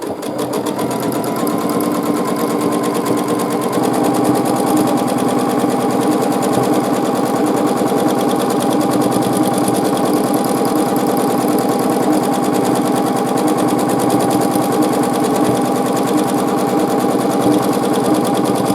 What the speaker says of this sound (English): in the seam, so stitching in the ditch